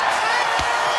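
A capacity crowd roars at a boxing match in Rocky IV, a dense, loud, continuous wall of cheering with one brief thud in the middle.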